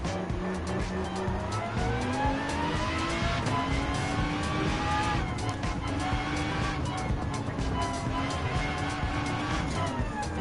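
Aston Martin DBR9 GT1 race car engine in Gran Turismo 7 during a World Touring Car 800 race, revving hard and climbing through upshifts with rising-and-dropping pitch, loud and continuous alongside other cars on track.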